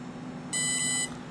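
A 3DX-450 electronic speed controller gives a single short, bright initialization beep lasting about half a second over a steady low hum, with no talk.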